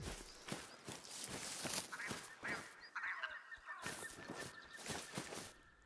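A game bird hen calls out in a hunting video game set on a Nordic coastal reserve, short honking clucks repeating in bursts amid ambient forest noise and rustling footsteps, fairly close and clear.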